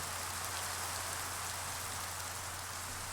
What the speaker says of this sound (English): Let's take a short break while we wait for the rain to stop.